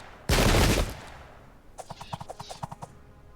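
Video game battle gunfire in an 18th-century British East India Company engagement at Plassey: a loud, dense burst of massed musket fire at the start, then a quicker run of about a dozen sharper, lighter shots, all with no speech.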